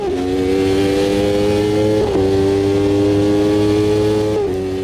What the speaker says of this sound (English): You can hear those back markers.